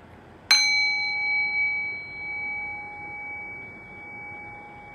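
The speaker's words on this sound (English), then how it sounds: "Rest your thinking mind on the sound of the bell." A meditation bell strikes once, sharp and clear, then rings on with a long pure tone that decays slowly over several seconds into quiet, alone with no voice.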